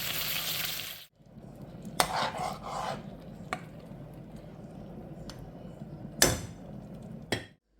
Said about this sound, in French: Maintenant, on va le déglacer à l'aide du bouillon qui nous a servi pour les haricots.